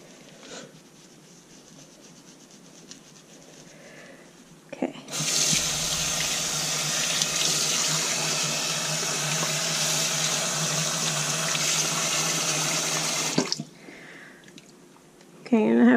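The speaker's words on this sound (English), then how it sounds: "I'm gonna get some nice temperature water to rinse her tummy" A faucet runs steadily for about eight seconds, loud and close, to fill water for rinsing a guinea pig during its bath, with quieter room sounds before and after.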